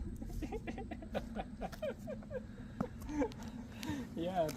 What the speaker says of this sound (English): That's a happy bird.